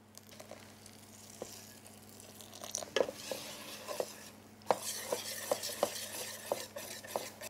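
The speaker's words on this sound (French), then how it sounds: "On mélange bien pour que l'appareil soit bien lisse, bien homogène" Hazelnut and blackberry cake batter is whisked in a bowl, with soft rhythmic sloshing and sharp taps of the whisk against the rim, quiet and close with no voices.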